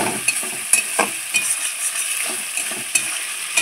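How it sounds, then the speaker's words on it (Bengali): Mutton being stirred and fried in a pan for kosha, a spitting sizzle broken by repeated scraping and stirring strokes at an uneven rhythm, close by. "এটা এখনও ভাজা হয়নি, আরও ভাজবো।"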